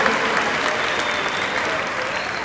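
A convention audience claps loudly and continuously, a dense wash of applause from a large crowd that fills the whole short stretch.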